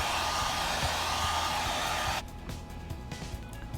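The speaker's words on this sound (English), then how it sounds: "So I'm just blow drying the paint and everything with my hair dryer." A hair dryer blows with a loud, steady whoosh for about two seconds, drying paint on a craft, then shuts off, leaving a much quieter room.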